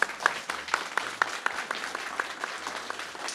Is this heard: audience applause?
yes